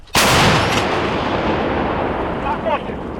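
A single loud blast from a D-30 artillery gun booms out, its roar and rumble rolling on and slowly decaying for several seconds.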